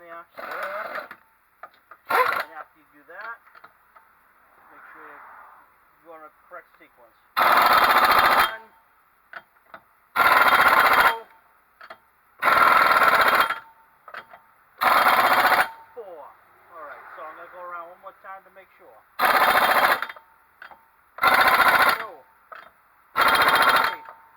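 Impact gun tightening the rear wheel bearing on a 2004 Honda Civic, delivering seven loud, evenly spaced buzzing bursts of about a second each, with quieter clicks and rattles of tools in between.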